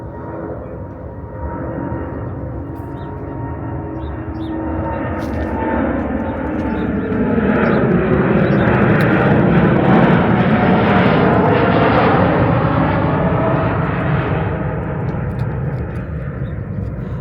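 A propeller or jet airplane passes overhead near an old coastal star fort sea wall, its engine drone building from a distance to a loud peak midway and then fading slowly, with no talk over it.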